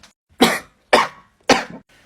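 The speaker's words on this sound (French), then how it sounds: "j'ai juste toussé" A person coughs three times in quick succession. Each cough is a sharp, loud burst, close to the listener, with a brief silence between them.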